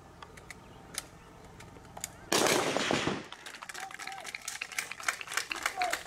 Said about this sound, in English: bagiye kurasira muri metero ijana bararasa bashinzi barakoresha imbunda yo mu bwoko bwa AK-47